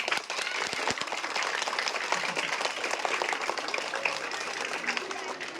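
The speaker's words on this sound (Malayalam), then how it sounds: "നമ്മുടെ ടീച്ചേഴ്സിന് വലിയൊരു ക്ലാപ്പ് കൊടുത്തേ." Children in a school gathering clap for their teachers, a dense, loud burst of applause that sustains evenly for several seconds before tapering slightly.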